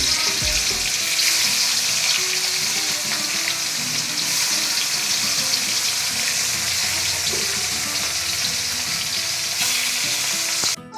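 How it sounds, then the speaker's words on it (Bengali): Pieces of catla fish fry in hot oil with a loud, dense, continuous sizzle that holds steady and close from start to finish. "মাছ ভাজা হয়ে গেছে"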